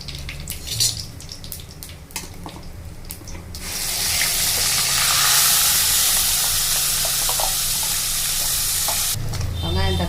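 Ground onion and tomato paste sautéing in hot oil for dal makhani: a steady, bright sizzle that swells up after some clattering and stirring, holds for several seconds, then cuts off into light scraping.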